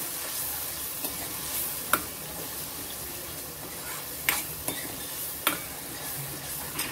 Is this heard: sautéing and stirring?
yes